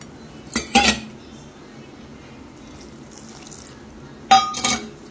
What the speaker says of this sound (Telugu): ఇప్పుడు ఇదంతా మిక్స్ చేసుకుందాం బాగా